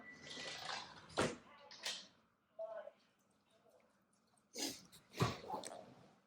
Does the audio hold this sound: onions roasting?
no